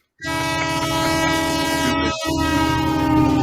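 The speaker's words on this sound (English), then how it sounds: "Push the stupid train horn" A loud, sustained train horn blares in one long, steady chord, with a brief break near the end before it sounds again.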